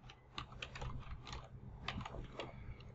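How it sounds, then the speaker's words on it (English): Keys clatter on a computer keyboard as commands are typed at a Windows command prompt, a quick irregular run of soft clicks and taps, close and fairly quiet, with no voices. "Here you need to type these few commands"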